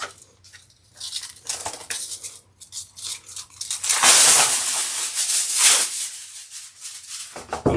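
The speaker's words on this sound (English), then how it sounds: "I'm going to wrap it in aluminum foil" Aluminum foil crinkled and torn while wrapping a beer chicken for a Dutch oven, uneven rustling and crumpling bursts that swell louder in the middle, close-up and with no talking.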